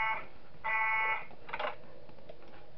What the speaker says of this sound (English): I'm banging the alarm because Peach won't leave